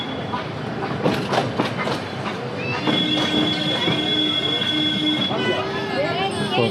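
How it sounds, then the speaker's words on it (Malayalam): Ooty toy train pulling into Coonoor railway station, wheels clacking and sustained high squeals of wheels on rails, close and loud, with crowd noise and voices around the platform. "അങ്ങനെ നമ്മൾ കൂനൂർ റെയിൽവേ സ്റ്റേഷനിലോട്ട് ട്രെയിൻ എത്തിക്കൊണ്ടിരിക്കുകയാണ്"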